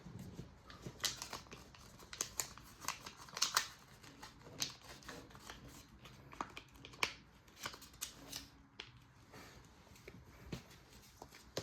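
Paper being creased and folded by hand for an origami model, soft crinkles and sharp snapping folds coming in irregular bursts, close and quiet with no talk.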